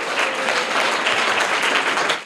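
An audience at a children's quiz bursts into dense, even applause for a student's correct answer. The clapping stays loud and steady for about two seconds, then cuts off abruptly.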